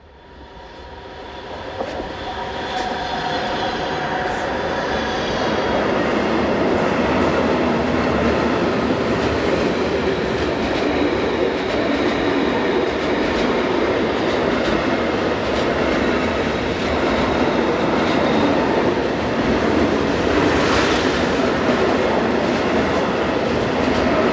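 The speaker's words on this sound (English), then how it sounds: "we see 185 350 and 367 approaching with an eastbound set of hoppers" A pair of class 185 electric locomotives hauls an eastbound train of freight hoppers past on a German main line, a loud, sustained rumble and rolling wheel noise that builds quickly and stays close throughout.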